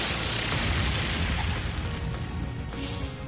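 The Brionac weapon unleashes its blast in Trails of Cold Steel III. A loud, continuous roaring boom fills the whole moment and fades slightly toward the end.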